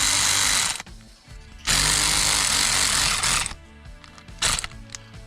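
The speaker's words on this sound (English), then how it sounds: "I'll need the electric ratchet" Electric ratchet whirring in two loud bursts while working on a Land Rover Defender during a drive and 12V system install, followed by clicks and clanks of handling.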